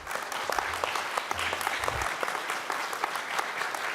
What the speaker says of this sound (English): if you will please hold applause or any other sort of reaction